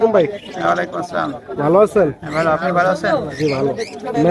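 Pigeons cooing among caged birds at the Meradia bird market, soft coos under loud, close talk that fills the whole stretch.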